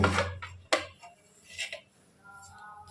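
Lid lifted off a cooking pot while making Kolkata-style fish fry, giving a few sharp metallic clinks and scrapes spaced out over a few seconds in a quiet kitchen.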